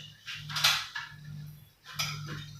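Bread dough ingredients, oil, yeast and flour, mixed in a bowl: soft scraping and clinking strokes in a few short bursts, faint and close, over a low steady hum.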